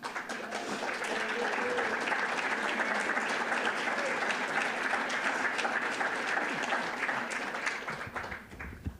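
An audience applauds a retiring arts council member at a community arts gathering in central Minnesota, with steady, dense clapping sustained for about eight seconds before tapering off quickly at the end.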